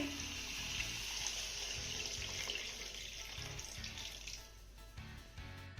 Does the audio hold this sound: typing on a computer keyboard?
no